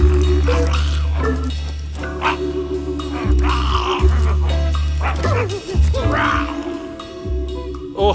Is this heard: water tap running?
no